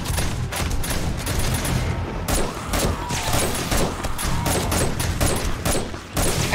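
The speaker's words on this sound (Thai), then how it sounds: "อันนี้คือกระสุนยิงทะลุไปด้านหลังนะคะ" Dense, loud gunfire rattles almost nonstop in the zombie survival game 7 Days to Die, with rapid shots packed closely together and only a brief lull.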